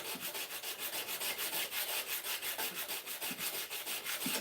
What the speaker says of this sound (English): I forgot how just tedious hand sanding is